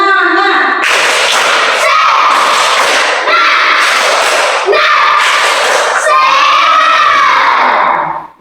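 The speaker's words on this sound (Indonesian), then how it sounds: "Ayo kita tepuk semangat." A group of schoolchildren performs a rhythmic spirit clap, sharp loud claps in quick bursts mixed with excited shouting voices from the whole group, close and energetic.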